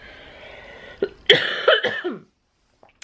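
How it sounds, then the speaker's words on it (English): A few dry, harsh coughs in quick succession, close and fairly loud, ending in a brief rough throat sound, followed by quiet. "I have a really dry cough and it's destroying my throat every time I cough"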